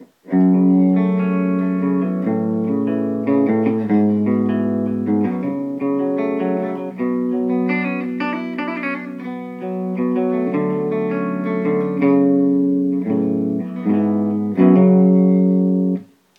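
A distorted seven-string electric guitar on the bridge pickup, through a Mesa/Boogie Mini Rectifier amp, plays chords and riffs continuously, loud and close, with sustained notes and brief pauses between phrases.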